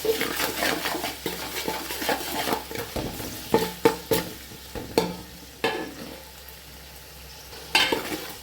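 Vegetable fried rice seasoned with stock cubes is stirred in a sizzling pan, with a soft frying hiss broken by repeated sharp spatula scrapes and knocks against the metal, close and without speech.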